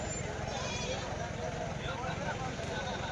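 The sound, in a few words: goats bleating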